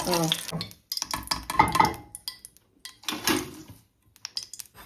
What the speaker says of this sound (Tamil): கருவேப்பிலை நல்லா பொறிஞ்சிட்டா